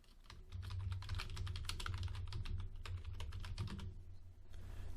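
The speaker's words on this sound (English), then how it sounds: "And I can hand type the entry." Quiet, rapid clicking of keys on a computer keyboard as an expense entry is typed in, continuing steadily over a low background hum.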